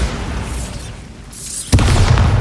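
Bombarda explosion spell cast in the video game Hogwarts Legacy: a sudden loud boom bursts in near the end, following a quieter stretch of magical shimmer, with the heavy rumbling blast sustained to the close.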